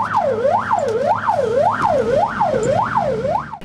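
A fire truck drives with its siren on through city streets in Rivne, Ukraine, the wail rising and falling in a steady, rapid cycle, loud and close over engine and traffic noise.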